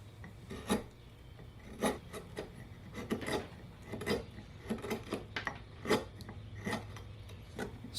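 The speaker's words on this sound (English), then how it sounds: "my gouges are very sharp, but I'm basically working up a walnut burl, and so it's this slow and easy progress." Sharp hand gouges scrape and rasp through a tough walnut burl in short, irregular strokes, each a brief crisp rasping burst close by over a low hum.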